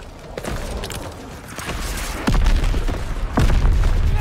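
Mortar and missile explosions boom in the Call of Duty WWII video game, several heavy blasts and thuds in quick succession over continuous battle noise, growing louder toward the end.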